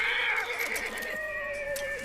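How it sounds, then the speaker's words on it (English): Horses whinny in the game Hunt: Showdown, a clear, drawn-out neigh up close that carries for about two seconds with no talk over it. "Sometimes horses make noise when people are nearby"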